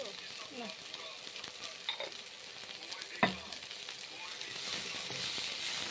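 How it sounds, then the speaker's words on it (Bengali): Turmeric powder and salt frying in a pan sizzle softly while a spatula stirs and scrapes through them, with one sharp clack of metal partway through. "তারপর ভালো করে নেড়ে চেড়ে নিচ্ছি খুন্তি করে।"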